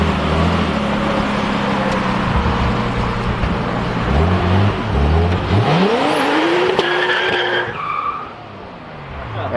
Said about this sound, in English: I'll do a burnout if you want me to.